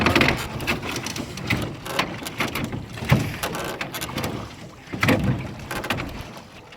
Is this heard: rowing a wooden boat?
yes